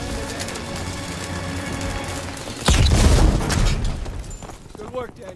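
A thermite charge goes off in Call of Duty WWII with a loud, deep boom that rumbles and fades over a few seconds. Battle ambience and voices run under it.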